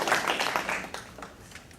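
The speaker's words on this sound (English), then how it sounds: "Let's give her another hand clap." Audience applause for a presenter at an end-of-term presentation event, a short burst of dense clapping that swells then slowly fades, with no talking over it.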